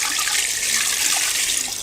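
Water being poured for amirthakaraisal, a farm preparation: a steady, close, splashing stream of liquid, loud and continuous with no talk over it.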